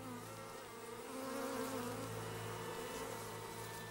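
Honey bees buzzing near a dying colony raided by ants, a faint continuous droning hum with wavering pitch and no voices.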